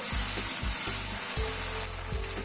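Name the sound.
cashew and poppy seed paste being sautéed in a pan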